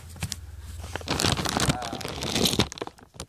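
A plastic bag crinkles and crunches as it is opened, bursts of crackling rustle growing denser and louder close to the microphone, with a person talking partway through.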